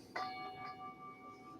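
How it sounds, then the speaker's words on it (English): A single bell struck once at the close of a meditation, a clear sharp strike followed by a long, steady ringing tone that slowly fades, heard alone in a quiet room. "the sound of the bell."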